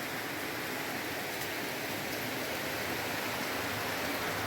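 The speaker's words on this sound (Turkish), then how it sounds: "korkunç bir yağmur yağıyor gerçekten." Heavy rain falling outside during a storm, a dense, steady hiss of downpour that stays loud and unbroken throughout, with no other sounds standing out.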